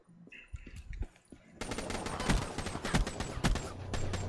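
Gunfire in Call of Duty: Black Ops 3, with rapid, loud bursts of automatic shots cracking in quick succession after a quieter start, the sharp reports repeating densely through the rest.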